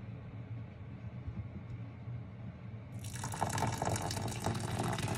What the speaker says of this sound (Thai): น้ำห้อน